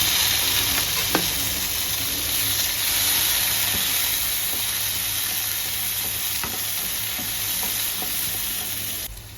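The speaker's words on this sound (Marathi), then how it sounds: "आता इथे मोहरी जिरे टाकते." Mustard seeds, cumin, garlic, onion and tomato fry in a pan for cauliflower bhaji, a steady close sizzle and hiss with faint scrapes of stirring, with no talking.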